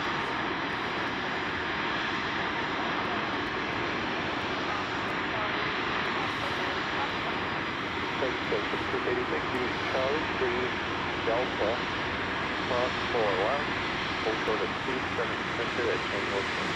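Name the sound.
Airbus A330 airliner at Chicago O'Hare airport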